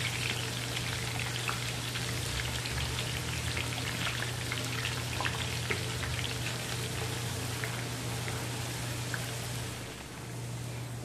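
Small onions sizzling in plenty of hot oil in a pan, a steady close crackle and hiss with a constant hum beneath, running alone throughout and easing slightly near the end.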